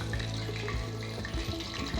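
Chicken pieces frying in hot oil for Drums of Heaven, giving a steady, close crackling sizzle with faint bubbling that runs continuously over a low tonal background.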